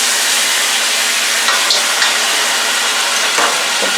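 Honey teriyaki T-bone steak fries steadily in a hot pan with a dense, continuous sizzle and a few brief crackles and pops, loud and close throughout with no voices.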